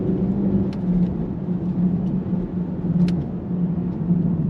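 A 2021 Mercedes GLS63 AMG SUV with 4MATIC all-wheel drive takes a turn, its engine a steady low hum from inside the cabin with faint ticks above, no talk.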